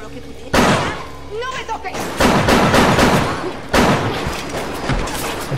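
Heavy bursts of gunfire firing armor-piercing rounds in the video game BioShock, three loud booming volleys with rapid repeated shots, each decaying into rumble, with brief mechanical sounds between.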